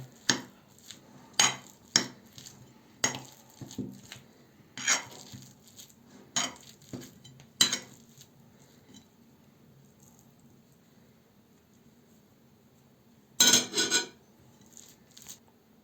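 A metal spoon clinks and scrapes against a bowl while mixing khachapuri filling, in irregular bursts, with quieter stretches between and one louder clatter near the end.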